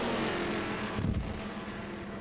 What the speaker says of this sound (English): Oh, I just love sitting here and listening to the cars go past.